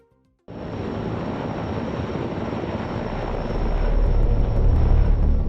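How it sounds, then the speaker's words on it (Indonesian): Broad, steady engine roar of a helicopter lifting a 10-ton load at a high-altitude UHV test site in Tangshan, Hebei, starting abruptly and growing slightly louder and heavier toward the end, with no voices. "Helikopter membawa muatan seberat 10 ton."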